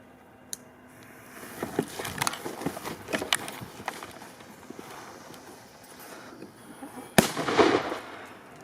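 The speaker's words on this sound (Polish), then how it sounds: "RC5 od Piromaxa. No tak, to już jest petardka większa rozmiarowo. Także odpalaj." A Piromax RC5 firecracker goes off outdoors: one sharp, loud bang near the end, preceded by scattered footsteps, shuffling and small clatters in the open air.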